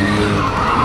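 A race car in a figure 8 racing video game skids sideways, giving a loud, continuous tire squeal and engine roar that holds steady through the moment, with no talk over it.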